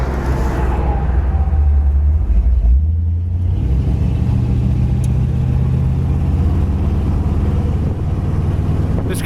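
A red 1959 Ford Galaxie convertible rumbles along the road with a steady low engine drone and road roar, close and loud throughout, easing slightly as it slows for braking.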